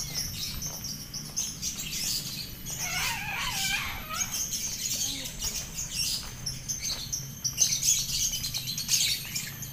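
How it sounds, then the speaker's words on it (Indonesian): Lovebirds calling in an enclosure at Medan Zoo, Simalingkar: a lively mix of sharp, high chirps and tweets from several birds, rising and falling in bursts, with a faint rooster-like call and some wing flutter in the background. "Ini namanya burung cinta. ini lovebird."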